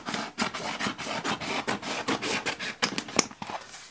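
A knife trims wallpaper along the wall just below the skirting board, giving steady rhythmic rasping, scraping strokes, close and fairly loud, with no voices.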